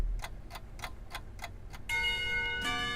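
A school bell in the video game Katawa Shoujo: several evenly spaced ticks or taps, then a sustained, bright ringing tone that swells and holds to the end.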